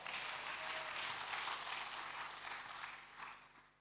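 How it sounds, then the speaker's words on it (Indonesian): Congregation at a church service clapping together in a sustained, steady burst of applause that fades slightly toward the end, with no speech over it. "Berikan tepuk tangan bagi Tuhan."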